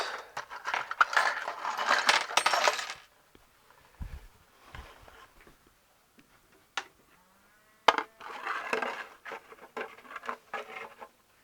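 Metal lawn mower bolts dropped into a small tray, giving bursts of rattling clatter and scattered clinks, close and fairly loud, with quiet gaps between.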